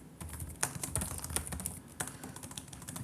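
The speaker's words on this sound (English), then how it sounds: "Okay, I'll give up on typing." Someone types on a computer keyboard nearby, a quick irregular run of light key clicks with a few louder taps and brief gaps, with no talking.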